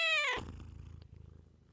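A house cat purs close up after a brief opening vocal cry, the low purr pulsing in a steady, even rhythm for the rest of the moment.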